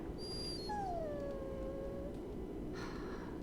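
A dog whimpers in a fantasy role-playing game, a long, thin, high whine that bends downward and fades, with a faint second yelp at the end over quiet background ambience.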